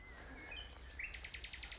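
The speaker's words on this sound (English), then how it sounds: "I've come out to listen to the most amazing bird song." Nightingale song on Suffolk coast heathland near Dunwich: a run of bright, high chirps and whistled phrases, ending in a quick rhythmic burst of repeated notes, fairly faint and heard alone.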